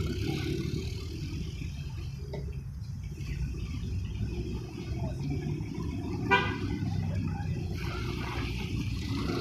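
Cars pass along a town street in Uzun district, a steady low traffic rumble with a few short horn toots, one standing out sharply around the middle.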